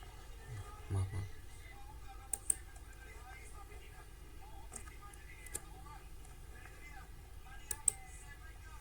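Quiet, sparse key clicks from typing on a computer keyboard, with scattered single taps and brief runs over a faint background hum.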